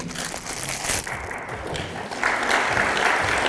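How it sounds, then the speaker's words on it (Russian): Deputies at a council session applaud a colleague's speech with dense, crackling clapping that swells slightly partway through and carries on steadily. "Выступление Дидарова завершилось аплодисментами коллег"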